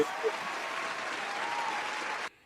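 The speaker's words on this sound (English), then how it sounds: "Let's get that a round of applause." An audience breaks into steady applause, a dense wash of clapping at even strength that cuts off sharply at the end.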